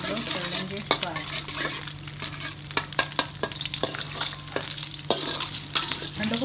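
Rice fries in a pan with a steady sizzle while a utensil repeatedly scrapes and clicks against the metal as it is stirred, close up and without talk.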